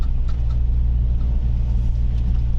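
A car driving over rough, potholed roads with its suspension under test, giving a steady loud low rumble of road and engine noise with faint knocks throughout.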